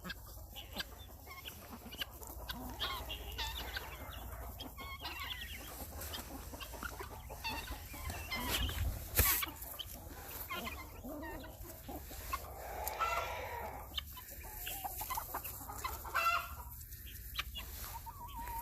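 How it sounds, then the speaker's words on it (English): A flock of around fifty chickens clucking and murmuring outdoors, quiet and scattered across many seconds, with a brief louder bump midway and occasional rustling. "I have probably 50 some odd chickens, but half of them are in the barn."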